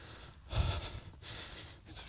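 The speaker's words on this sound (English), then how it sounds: "I do apologise about any heavy breathing, by the way." A hiker's heavy breathing while climbing uphill on a hot day on fell paths near Hart Crag in the Lake District: close, loud huffing breaths in a slow uneven rhythm, with no talk.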